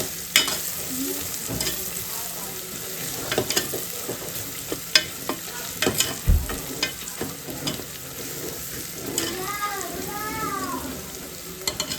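Ground coriander-leaf paste fries in a pan, giving a steady sizzle broken by scraping stirs and clinks of a utensil against the pan, with a brief low thump partway through and a few faint whistling tones near the end.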